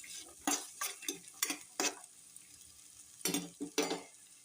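A spoon stirs vegetables in a pan for upma, giving several scraping, sizzling strokes in two clusters with short pauses between, close and fairly distinct.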